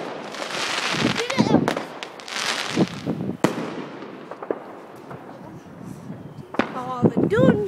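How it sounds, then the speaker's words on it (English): Bonfire Night fireworks in 2016 pop and crackle at a distance, with a few sharp bangs and whistling rockets rising and falling over a steady outdoor rumble; a person's voice is also audible. "Sure, last few fireworks."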